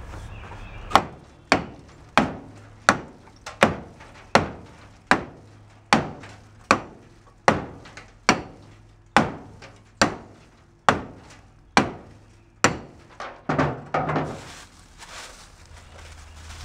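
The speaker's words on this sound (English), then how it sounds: "To beat it with a hammer though." A hammer beats on a seized brake of an old VW bus left 31 years in a field, about fourteen sharp, evenly spaced metallic blows ringing out loud and close, speeding into a quick cluster at the end.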